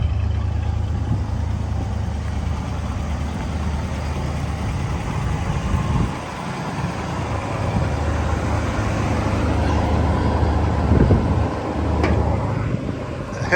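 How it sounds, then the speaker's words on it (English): A 1974 Cadillac Sedan DeVille's 472 cubic-inch V8 idles smoothly and steadily with a deep low hum and rumble, heard close and alone, with a few light clicks and knocks near the end. "472 cubic inches of V8 power under the hood."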